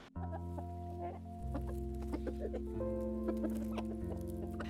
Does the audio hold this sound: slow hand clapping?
no